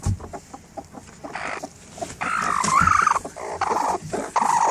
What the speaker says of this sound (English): The chickens won't let us see the kittens.